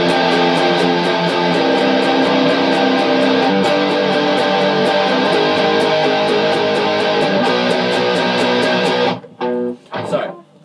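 Distorted electric guitar strums the chorus of a song in one repeating pattern, thick sustained chords with regular rhythmic accents, loud and steady before stopping abruptly into a few brief quieter noises.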